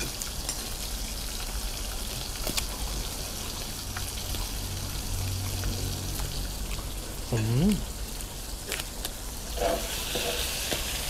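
Pork and mushrooms sizzling on a new Korean barbecue grill pan, a steady crackling fry like light rain throughout, with people chatting nearby and a few clinks.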